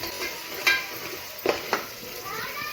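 Ginger garlic paste frying in a pan of oil for bagara rice, with a steady sizzle throughout and a few clinks and stirring knocks of a utensil against the pan.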